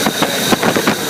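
A 1989 Chevy Caprice engine running loud with an exhaust leak, a steady close rumble with rhythmic pulsing bursts roughly every fifth of a second.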